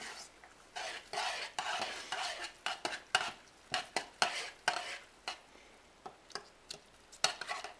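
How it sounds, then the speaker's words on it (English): Macaroni noodles stirred with butter and cheese in a pot, a close series of wet, squelching scrapes and clicks from a utensil in an irregular rhythm, with no talking. "you stir it around until all the butter is gone and until you don't see any more chunks of cheese"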